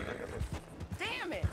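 A horse in the game Red Dead Redemption 2 gives a short, close whinny with a few hoof clops, all within little more than a second, while someone talks over it.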